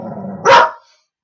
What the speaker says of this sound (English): the dog's about to bark because the postman's just coming up the